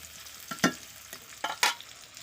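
Tomatoes are stirred in a pan over a wood fire, with a few quick scraping strokes rising out of a soft background sizzle and no voices.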